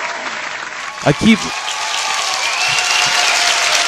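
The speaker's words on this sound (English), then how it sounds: "That sounds like theater applause again" Theater audience applause as a broad, steady wash of clapping that builds and holds through the whole stretch, with a brief spoken phrase cutting in near the start.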